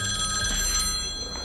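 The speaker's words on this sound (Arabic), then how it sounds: "خلينا إذا بيهدأ التليفون" An old-style telephone bell rings continuously and loudly nearby, a steady metallic trill lasting throughout.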